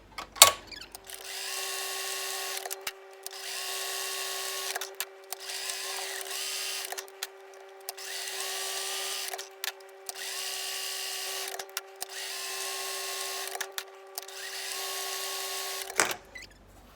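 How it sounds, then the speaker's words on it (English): A sewing machine stitches rows of faux smocking in about eight steady bursts of whirring, each a second or two long, separated by short pauses, close by and without talk. "So now I'm just going to sew all of those rows."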